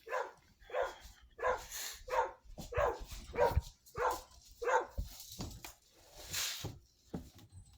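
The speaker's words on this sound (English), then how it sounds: "it's barking at the neighbor's dog." A dog barking at a neighbouring dog, a steady series of sharp barks about every half second, moderately distant and faint, fading into quieter yips at the end.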